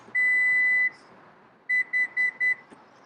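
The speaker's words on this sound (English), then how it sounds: "Then you're going to push and hold and listen for 4 beeps." A Lexus UX power liftgate sounds confirmation beeps while its opening height is set: one long electronic tone, then four short evenly spaced beeps, clear and close in a quiet setting.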